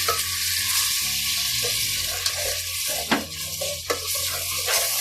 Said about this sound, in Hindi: अदरक लहसुन को अच्छी तरह से हम भून लेंगे ताकि इसकी स्मेल निकल जाए। टमाटर का पेस्ट में डाल लेंगे इसमें।